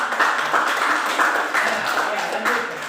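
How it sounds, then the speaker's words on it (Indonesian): A classroom of students clapping for a classmate, a steady burst of applause lasting a few seconds with uneven rhythmic peaks, fairly close. "berikan dulu tepuk tangan kepada Ani ya"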